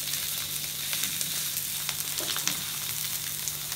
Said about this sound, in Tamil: வெங்காயம் வந்து கொஞ்சம் நிறம் மாறுற வரைக்கும் நம்ம வந்து நெருப்பில் போட்டு கொஞ்சம் வாட்டுறோம்